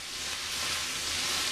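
Pancetta, garlic and peperoncino frying in a pan, giving a steady, bright sizzle that holds evenly from start to finish, close up and with no talk.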